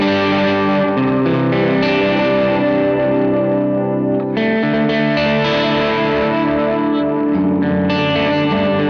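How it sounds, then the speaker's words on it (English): Guitar played through a Carbon Copy analog delay pedal with its chorus modulation engaged, sustained chords blurring into lush, wavering repeats that stay loud and continuous throughout. "it adds some modulation, some chorus to our delays."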